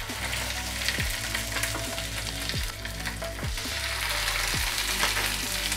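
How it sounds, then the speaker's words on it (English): Sea bream fish sizzles in oil in a frying pan, a steady close crackling fry with a low recurring hum underneath and no voices throughout. "I brush a bit oil on the fish before I put in the frying pan."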